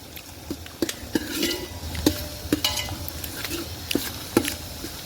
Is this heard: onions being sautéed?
yes